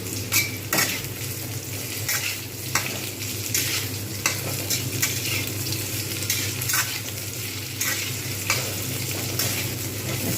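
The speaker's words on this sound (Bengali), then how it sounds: "ভাজা হয়ে গেছে বেগুন এবং আলু খুব সুন্দরভাবে" Eggplant, potato and greens (spinach and bottle gourd leaves) fry with five-spice seeds in a pan, giving a steady close sizzle broken by regular scrapes and clinks of a spatula stirring, with no voices.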